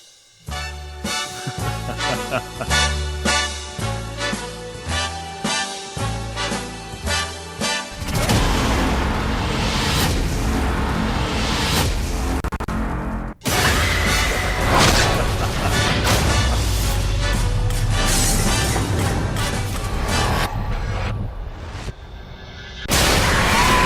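Loud modern-style trailer audio for a Friday the 13th horror film: dramatic music gives way to heavy booms, crashes and deep rumbling hits, sustained and dense throughout, with no talking.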